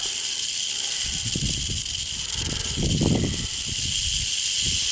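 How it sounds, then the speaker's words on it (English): A large western diamondback rattlesnake in the Arizona desert in January keeps up a loud, continuous buzzing rattle and hiss close by, with low breathy huffing puffs coming in bursts underneath. "You can hear him huffing and puffing."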